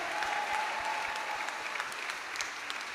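A congregation at a healing service in Martinique claps steadily in praise of Jesus. Dense, continuous applause from a crowd fills the space, with no voices standing out.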